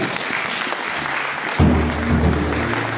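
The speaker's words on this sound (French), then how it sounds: "on acclame pour ce Dieu-là" A church congregation applauding at a morning service, a dense wash of clapping that swells louder and fuller partway through, with no voices over it.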